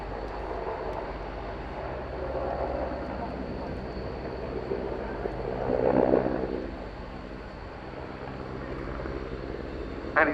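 A Portuguese Air Force AW101 Merlin three-engine helicopter roars steadily at an air show, a broad engine and rotor rumble that swells briefly, with a commentator talking over it.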